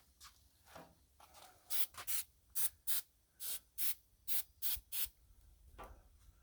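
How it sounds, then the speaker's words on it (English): Non-stick cooking spray misted onto egg rings on a Blackstone griddle, about ten short hissing bursts in a steady rhythm, close and clear, with no talking. "It's this non-stick spray."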